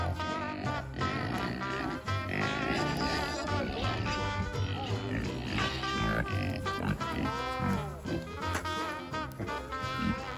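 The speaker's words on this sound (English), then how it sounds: "How many pigs you see here?" Pigs on a farm grunting and snorting in a busy, continuous cluster, close and fairly loud across the whole stretch with overlapping calls.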